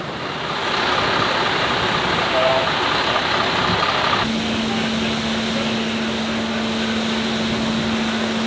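Car engines idling and rumbling at a ferry landing as vehicles reverse aboard, a loud steady drone with a low hum that settles in partway through, plus faint background voices.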